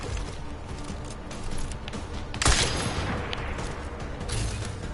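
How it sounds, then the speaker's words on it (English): Gunfire in Deus Ex: Mankind Divided: a steady spread of distant shots over a busy game background, with one sharp, louder crack near the middle, and no talk. "Where am I being shot at now?"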